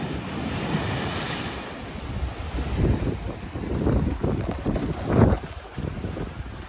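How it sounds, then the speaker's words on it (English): Strong sea waves at St Ives, Cornwall, surging in repeated swells that build and break, with heavy wind noise over the microphone and no talk. "Just got here to the sea and the waves are quite a bit strong"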